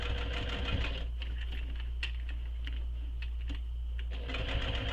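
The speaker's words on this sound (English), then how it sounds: "the top stitching on that vinyl bag, I will do that" A sewing machine top stitching a vinyl bag: a steady, close motor hum with fast rhythmic needle clatter, fading into a brief lull in the middle before the stitching picks up again.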